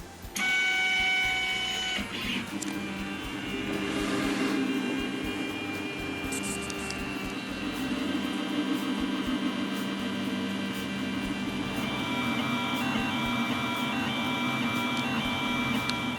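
A SeeMeCNC Orion Delta 3D printer prints, its stepper motors giving shifting whines and buzzing tones over a steady fan hum, moderately loud and continuous with no voices.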